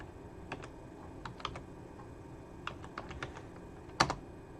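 Typing on a computer keyboard to log in, with a scattered run of light, close key taps at an uneven pace and one firmer keystroke near the end, over a faint steady room hum.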